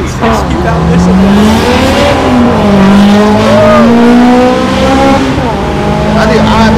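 A Honda S2000 sports car pulls away from a Cars and Coffee meet in Raleigh, North Carolina, its engine rising loud and close through the gears while people talk nearby.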